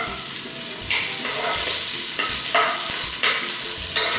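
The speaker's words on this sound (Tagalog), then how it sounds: "Ginigisa ko lang muna yung sibuyas" Sliced onions sautéing in hot cooking oil for a fish sinigang, a steady loud sizzle with several sharp bursts as the pan is stirred, no voices.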